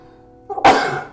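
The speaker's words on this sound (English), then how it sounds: "We got to sneeze. I felt that one coming like 2 minutes ago." A single sharp sneeze from a man, a brief quiet intake then a loud explosive burst close to the microphone, alone.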